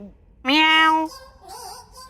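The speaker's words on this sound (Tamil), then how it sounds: "அழகான பூனை." Cat giving one clear, drawn-out meow up close, followed by quieter speech-like sounds.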